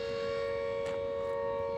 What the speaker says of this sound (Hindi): बैकग्राउंड में जो आपको नॉइज़ सुनाई दे रही है सायरन की